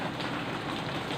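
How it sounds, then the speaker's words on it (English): Heavy rain pours down in an unbroken, dense hiss, loud and even throughout, with no voices over it. "See, it's all pouring down rain."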